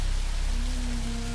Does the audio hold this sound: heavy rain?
yes